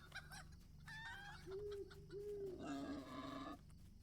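Chickens in the online game The Lord of the Rings Online cluck and squawk in short rising bursts, then a drawn-out crowing call, clear and close against a quiet background.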